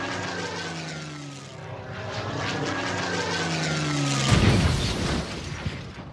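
An aircraft engine drones loudly and steadily, pitch sliding down as it passes, then a burst of broadband rushing noise swells near the end.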